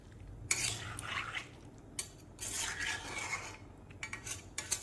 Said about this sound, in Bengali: দেখো সবগুলো দিয়ে আমি নাড়াচাড়া করে ভালো করে মিশিয়ে তারপরে আমি ঢাকা দিয়ে দেব।